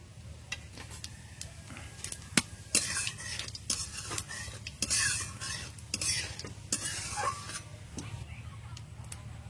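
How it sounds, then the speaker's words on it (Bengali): Whole cumin seeds sizzle in a kadai while a utensil stirs and clatters against the metal in irregular bursts, the frying hiss soft beneath the repeated knocks and scrapes. "কড়াইতে দিয়ে দেবো গোটা জিরে"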